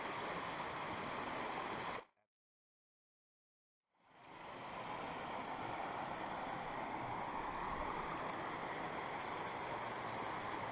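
The Grose River in the Blue Mountains, New South Wales, rushing steadily in a loud, broad wash of flowing water that drops out abruptly into silence for about two seconds before the river sound returns.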